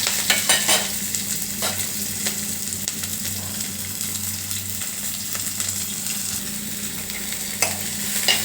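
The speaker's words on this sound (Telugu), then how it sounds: "నూనె కొంచెం వేసి జీలకర్ర వేసి ఉల్లిపాయలు పచ్చిమిరపకాయలు 2 వెల్లుల్లి ముక్కలు వేసుకుంటున్నాను" Onions, green chillies, two garlic pieces and cumin seeds fry in a little oil, giving a steady nearby sizzle with occasional stirring scrapes and a few louder clicks.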